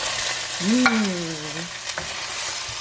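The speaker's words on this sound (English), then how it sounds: "It's sizzling in here." A steady, close sizzling hiss of food stir-frying in a pan with pepper, sugar and sesame oil, with a brief squeaky tone rising and falling partway through.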